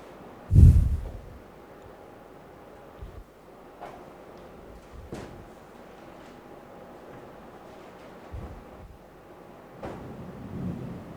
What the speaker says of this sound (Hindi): यहाँ कोटा में इस बार इतना बारिश हो रहा है